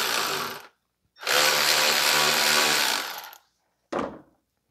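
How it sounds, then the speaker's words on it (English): A power tool loosens the alternator adjustment bolt on a 2009 Subaru Impreza 2.5 SOHC EJ253 engine. It gives three close, loud whirring bursts: a short one, a sustained run of about two seconds, then a brief final spurt. "And then you can loosen the adjustment bolt."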